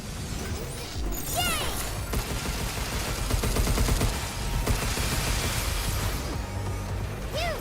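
Video game missiles fire and explode in a rapid, continuous barrage of loud bangs, crashes and mechanical clatter, with whistling streaks overhead throughout.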